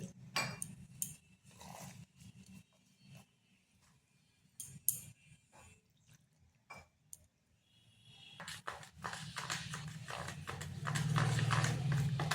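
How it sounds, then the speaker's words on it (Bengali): A whisk beats a thin batter of rice flour, egg, flour and water in a bowl for a snack, giving quick close clinks in bursts with quiet pauses. A steadier wash of noise builds toward the end. "এইভাবে ব্যাটারটা বেশ কিছুক্ষণ ফেটিয়ে নিতে হবে"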